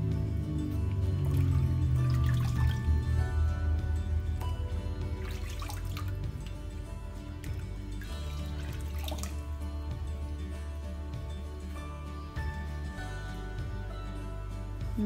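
Running tap water splashing into a kitchen sink as it is cleaned out while cooking Southern greens, a steady rushing and dripping that continues throughout at close range.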